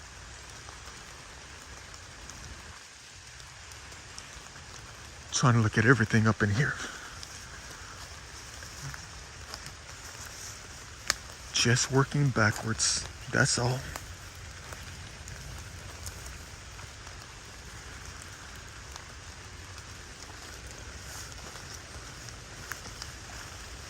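Steady rain patters on surfaces all around, a constant soft hiss, with someone speaking briefly twice over it.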